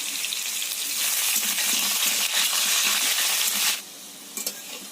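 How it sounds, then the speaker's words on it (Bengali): Cut potatoes fry in hot oil with a steady crackling hiss and scattered small clicks for several seconds, then the sizzle drops away, leaving a quieter background with a few faint taps. No one speaks. "তেলটা গরম হয়ে গেছে এবার কেটে রাখা আলুগুলো দিয়ে দেব ভাজার জন্যে"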